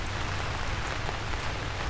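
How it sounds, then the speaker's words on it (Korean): Heavy rain pours down steadily as a sound effect in a folk tale about a great flood, a dense, continuous hiss of drops beating on surfaces with no voices over it. "엄청나게 큰 비가 내리기 시작했다"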